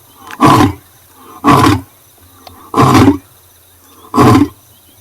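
A male lion roars at night in the South African wild, four loud, deep bursts spaced about a second apart with quiet gaps between them.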